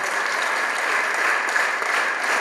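An audience at an Advent concert in Kecel applauds a choir, a dense, continuous wash of many hands clapping, loud and close, with no talk over it.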